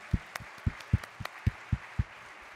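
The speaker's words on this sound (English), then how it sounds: "Shall we now clap for everyone for joining in?" A small crowd at an opening ceremony claps in a loose, irregular rhythm, about ten separate sharp claps spread over a few seconds, moderately close with quiet gaps between.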